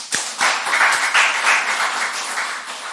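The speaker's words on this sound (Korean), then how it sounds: "축복의 박수 한번 부탁드립니다." Church congregation applauding children at a Friday prayer service, opening with a few distinct separate claps before building into dense, steady clapping that fades slightly toward the end.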